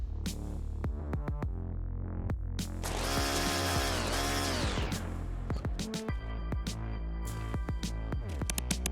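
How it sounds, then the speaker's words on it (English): A mini laser drill in a video game runs in a steady, tonal mechanical whine with clicking and ratcheting bursts, fairly close and with no talk over it. "Mini laser drill."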